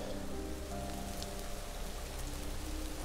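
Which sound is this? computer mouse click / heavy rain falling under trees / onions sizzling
heavy rain falling under trees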